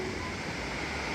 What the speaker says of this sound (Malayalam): ഇതാണ് കേട്ടോ വെള്ളച്ചാട്ടം